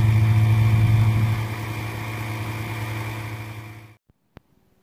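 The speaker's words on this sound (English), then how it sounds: "we're gonna try the snowmobile out and see how that goes" A snowmobile engine idles nearby with a steady, loud mechanical drone and a low hum. It fades out near the end, followed by a couple of sharp clicks.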